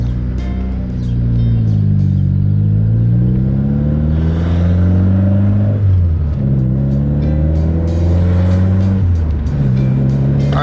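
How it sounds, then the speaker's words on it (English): A lowered Honda Civic sleeper drives around the block, its engine droning loud and close with repeated rising and falling revs through gear changes and occasional clunks from inside the cabin. "I'm just gonna drive around the block and see if I rub at all as well."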